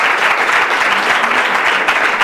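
Audience applause at a live show fills the moment, a dense, loud wash of clapping that stays steady throughout with no talking over it.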